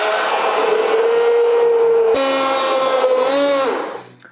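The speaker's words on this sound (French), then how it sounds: "À l'aide d'un mixeur plongeur, on va venir mixer notre potage." Immersion blender puréeing a cooked cauliflower soup (crème Dubarry), a steady loud motor whine that shifts pitch slightly midway as the load changes, then cuts off near the end; no talk.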